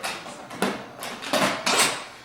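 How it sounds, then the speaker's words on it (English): A lid goes onto a pressure cooker being used to make refried beans, giving several close metallic clanks and scrapes in quick succession. "Get our lid on."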